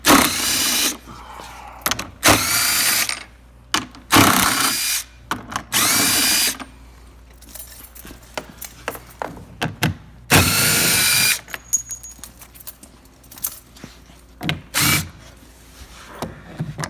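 Power drill backing screws out of an R250 machine during basic cleaning: repeated loud whirring bursts of a few seconds each, close up, separated by clicks and handling noises.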